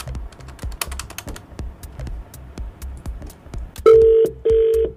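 Rapid clicking of phone keys being pressed for a radio prank call, followed by two loud, steady electronic ringback tones close to the phone.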